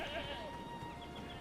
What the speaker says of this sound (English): Oh, pretty sheep.